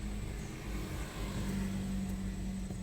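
A manual car pulls away slowly in first gear as the driver eases off the clutch, a steady low engine hum with a faint tonal drone running continuously and evenly throughout, close and unchanging in level.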